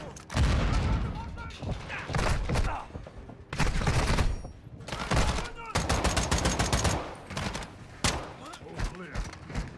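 Gunfire in the Modern Warfare 2 campaign, a video game: loud bursts of rapid automatic fire and sharp single shots crack in clusters, with explosive thumps, over a dense battle din and occasional voices talking.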